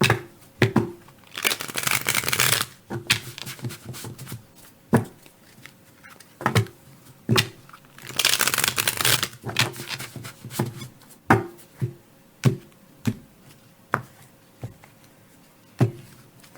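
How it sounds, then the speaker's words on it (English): Tarot cards being shuffled by hand in repeated riffle bursts around two and nine seconds, with sharp single taps and card slaps scattered between, close and fairly quiet with no talking. "Okay, a couple more shuffles."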